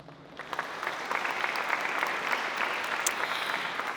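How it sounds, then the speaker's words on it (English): An audience at the 2024 Presidential and Creative Artist Awards ceremony breaks into sustained applause, many hands clapping in a dense, steady wash that swells quickly and carries on throughout. "Join us in another round of applause for our 2024 Presidential and Creative Artist Awardees."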